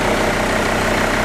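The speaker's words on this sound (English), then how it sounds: "Leave the engine idling or slight revs to observe the" A car engine idles steadily during a cylinder head gasket test with a RELD tester, a loud continuous low rumble heard close up with no talk.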